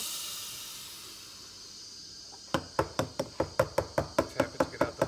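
A hot blast of steam hisses and slowly fades, then gives way to a quick, even run of sharp tapping knocks close by.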